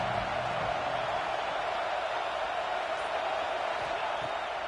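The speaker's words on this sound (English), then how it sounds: "The crowd getting behind this defense as they try to get a stop in the red zone." A stadium crowd at a football game keeps up a steady, unbroken roar of cheering, dense and constant throughout with no distinct individual voices.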